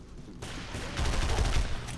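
Sustained rapid gunfire from a video game fills the clip, starting abruptly after a brief quiet moment and growing louder in dense bursts toward the end, with no talking.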